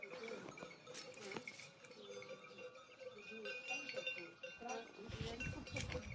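Small bells on a flock of sheep clink and ring softly at irregular moments, mixed into a busy outdoor background with low murmuring voices and rustling.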